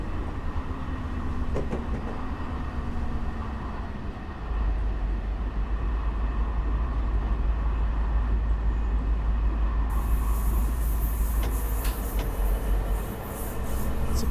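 Amtrak Pacific Surfliner train in Train Simulator Classic, a steady rumbling rolling drone of wheels on rails with low engine hum, a brief higher hiss joining near the end, no voices.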